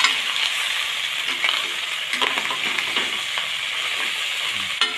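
Pork hock and onion frying in a pan for adobo, a steady broad sizzle with occasional light stirring taps, close and continuous.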